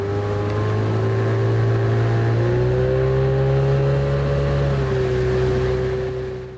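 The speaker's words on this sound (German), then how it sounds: "Unser eigentlicher Trainer Jan Lindemann sitzt auch noch nebenbei im Motorboot." A motorboat engine runs steadily near a rowing training camp, a continuous loud drone with shifting pitch as the throttle changes, fading slightly at the end.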